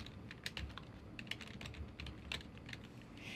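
Typing on a computer keyboard, with irregular clusters of quick, crisp key clicks and taps spread through the span, close and moderately loud, with no talking.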